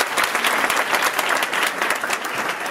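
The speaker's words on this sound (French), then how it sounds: "Applaudissez la sœur" An audience at a university lecture applauds a student, a dense, loud burst of many hands clapping continuously for under three seconds, with no speech over it.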